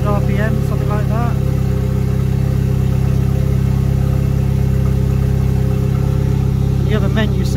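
Ariel Atom 4 engine idling steadily at about 900 RPM, a continuous low drone throughout, close and fairly loud, with a person talking over it at the start and end.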